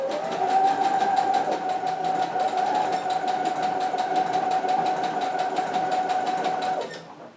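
A sewing machine stitching a spandex bodysuit runs loud and continuous with a fast, even needle rhythm and motor hum, winding down at the very end; no talking.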